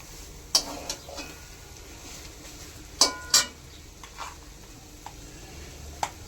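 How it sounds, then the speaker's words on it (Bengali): Raw mango being stirred in a wok for jelly: sporadic scraping and clinking of a utensil against the pan, a few sharp strokes standing out over a faint, quiet background. "দশ মিনিটের মতো কড়াইতে নাড়াচাড়া করেছি"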